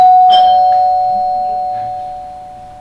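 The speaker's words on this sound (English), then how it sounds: "Can you ring the doorbell again?" A doorbell chimes once loudly at the start of a comedy class stage showcase, its tone ringing on and slowly fading over several seconds with faint background stirring.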